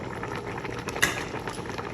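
Goat head curry gravy simmers and bubbles steadily in a pot as it reduces, a continuous soft boiling texture with one brief louder pop near the middle and no voices.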